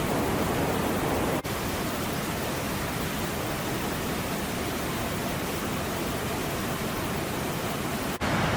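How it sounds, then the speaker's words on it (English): A noisy, free-flowing mountain river in Kinnaur–Spiti rushes continuously, a dense, steady roar close by with no talk over it. "I did stop to capture the beauty of the noisy,"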